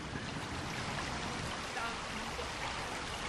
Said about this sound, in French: nous redescendons le petit ruisseau d'eau, de pierre et de lumière.